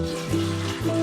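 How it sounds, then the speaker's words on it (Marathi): Heated water is poured into a hot pan of dal for puran poli, giving a brief loud hiss with a steady pouring tone that rises in pitch over about a second. "गरम केलेलं पाणी टाकणार आहोत।"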